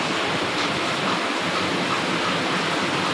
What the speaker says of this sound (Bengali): জল পড়ছে দেখো।